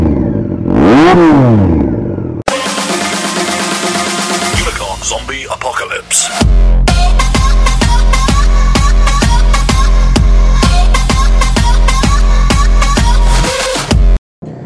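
A Triumph Street Triple 675 motorcycle running with no exhaust fitted revs up and back down with a sweeping whine, then settles into loud, close, rapid mechanical pulsing that is rough and raw throughout.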